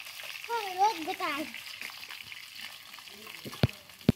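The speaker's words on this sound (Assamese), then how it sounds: "এতিয়া তেল দি পিনে মাছখিনি ফ্ৰাই কৰি ল'লোঁ" Fish fries in oil on a traditional clay stove outdoors, a low continuous sizzle under a voice, with two sharp pops near the end.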